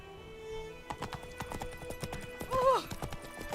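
Hooves of Roach, the horse in The Witcher 3, clip-clop in a steady galloping rhythm up close, with a short whinny near the end over quiet ambient game sound.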